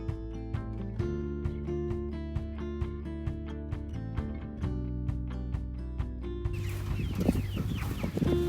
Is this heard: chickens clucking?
yes